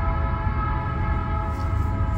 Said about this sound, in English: Ooh, is that a big train?